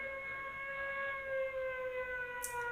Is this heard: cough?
no